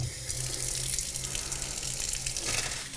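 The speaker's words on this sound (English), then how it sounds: "you're going to want to fill it up with a few inches of water" Tap water runs steadily into a plugged kitchen sink during a drain installation test, a continuous close hiss and gush of filling water with no talk over it.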